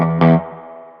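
Electric guitar played through a REVALVER amp clone with emulated reverb on a Headrush Flex Prime: one loud distorted chord struck near the start, ringing out and decaying into a reverb tail.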